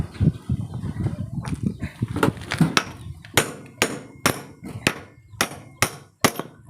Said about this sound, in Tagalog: Gamit lang tayo dyan ng martilyo.